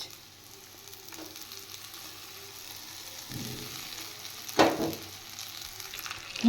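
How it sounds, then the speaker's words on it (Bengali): Fried radish and fish sizzle in spice masala in a pan, a constant close hiss of frying with bursts of louder crackle and stirring scrapes as the pieces are added. "এবার আমি ভেজে রাখা মুলোগুলো দিয়ে দিচ্ছি এবার আমি দিয়ে দেব ভেজে রাখা মাছ"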